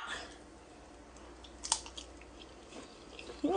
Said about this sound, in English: Very crunchy. I love snails.